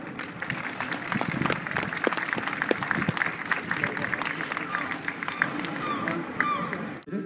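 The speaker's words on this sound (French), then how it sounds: "on n'hésite pas à les encourager et les applaudir" Audience clapping and cheering, with a busy crowd of many hands and mixed voices, holding at a steady level, then cutting off abruptly at the end.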